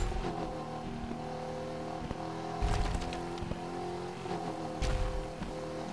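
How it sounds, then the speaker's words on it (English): Ford Bronco drifting through a turn in the racing game Gravel, with a steady engine drone and a revving surge, loose tire noise crunching over gravel. "Drifting around the turn in a Bronco"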